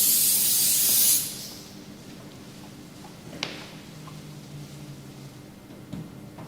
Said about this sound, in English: our first step of cleaning is to use our solvent cleaner to remove any waxes or polishes from the surface